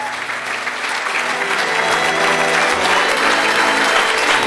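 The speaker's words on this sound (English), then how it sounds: "Come on, give her another big round of applause." Loud, close, sustained applause from an audience at a Hall of Fame award evening as the recipient is honored, the crowd clapping steadily and building slightly, with a faint murmur of voices underneath.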